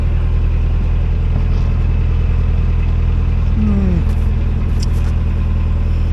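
A narrowboat engine runs steadily at about 1200 RPM on a canal near Macclesfield, giving a loud, constant low throb with a rhythmic mechanical pulse, and a brief tonal squeal rises partway through.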